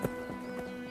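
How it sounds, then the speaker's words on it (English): A horse's hooves strike the ground a few times during a display of traditional Spanish jineta horsemanship, a brief and faint series of thuds over steady outdoor ambience. "When Javier Martin is not herding cattle, he gives displays of traditional Spanish horsemanship."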